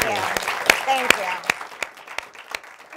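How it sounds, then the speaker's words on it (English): An audience applauds in a short burst of sharp, scattered claps, with cheering voices and speech over the clapping. "Let's take a round of applause"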